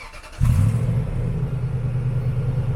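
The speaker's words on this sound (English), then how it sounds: "so we can go and fire it up" Lexus GX470 V8 with a Magnaflow Overland cat-back exhaust cranks and fires up, settling into a loud, steady deep rumble at idle, close by with no talking.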